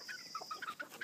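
Chickens on a homestead give a quick run of soft, close clucks and chirpy calls, faint and alone with no talk.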